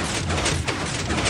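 Minecraft pistons firing in a zombie spawner farm make a dense, continuous mechanical clatter that stays loud and steady throughout, with no talking.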